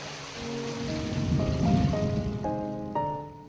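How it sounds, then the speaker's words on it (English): Treated effluent from a constructed wastewater wetland pours out through a swivel pipe, a continuous close rush of flowing water with a few faint sustained tones rising over it toward the end. "Wetland effluent flows out through a swivel pipe that allows control of the water level"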